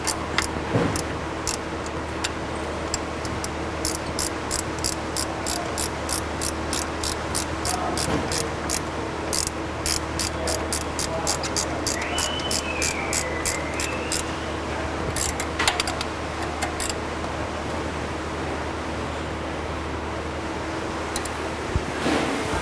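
A wrench clicks steadily while tightening a rail clamp bolt up against the bottom of a router head on a 994-X machine, a run of quick, regular ticks over a constant low machine hum.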